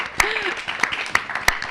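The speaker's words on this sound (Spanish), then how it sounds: "Un aplauso para el Colegio Sol de Chile, lo compartimos, un aplauso" An audience at a school science event claps for Colegio Sol de Chile: a handful of sharp, spaced claps in a loose rhythm, with a brief voice among them.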